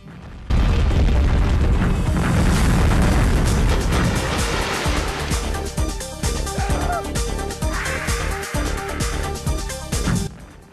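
Loud booming explosions from the PS1/Saturn video game Mass Destruction, a heavy blast opening into a rumbling barrage of repeated bursts and crackling debris that continues throughout.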